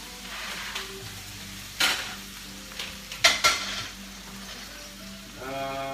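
Food stir-frying in a home-kitchen wok, a soft steady sizzle with a few sharp clinks and scrapes of a utensil against the pan and a rising hum near the end, with no talking.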